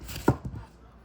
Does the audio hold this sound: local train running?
no